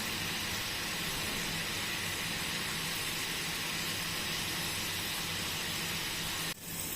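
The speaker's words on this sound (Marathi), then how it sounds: "हे बघा मस्त छान अशी तळून वरती येते" Masala dal frying in hot oil gives a steady, dense sizzling hiss that holds evenly throughout, close and continuous, with a brief knock near the end.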